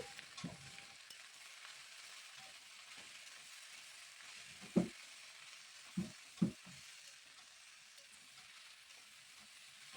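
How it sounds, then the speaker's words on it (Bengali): Vegetables seasoned with turmeric and salt are stirred in a pan, giving a faint, steady sizzle broken by a few sharp clinks and scrapes of the spoon against the pan. "হলুদ গুঁড়ো আর নুন দিয়ে ভালোভাবে মিশিয়ে নিচ্ছি"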